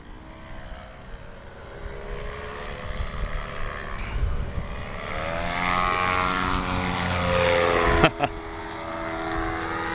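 A paramotor flies overhead at a swamp STOL competition, its propeller drone rising and swelling as it passes, with a sharp knock near the end and faint voices in the background.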